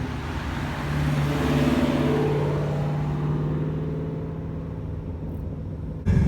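A Shelby GT350 Mustang exhaust revs loudly up close, holding a deep rising roar for several seconds before a sharp burst of throttle at the end.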